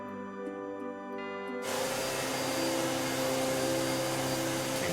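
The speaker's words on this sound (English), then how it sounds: "That sound like a vacuum cleaner? Oh, excuse me. I was just vacuuming." A vacuum cleaner from the video game Gabriel Knight switches on partway through under a quiet tonal game backdrop, then drones loudly and steadily as a dense broadband roar with a whining hum on top.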